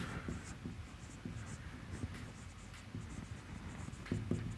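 Chalk or marker scratches and taps across a board during an engineering lecture on boiler trials, a run of short, close strokes with brief pauses between them.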